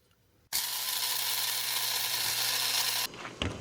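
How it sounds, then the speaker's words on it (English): A steady, loud hiss of bubbling and steam from a pot of water boiling at a campground starts abruptly, holds for a few seconds, then cuts off, leaving quieter rattling and faint clicks. "I got a couple things boiling over here."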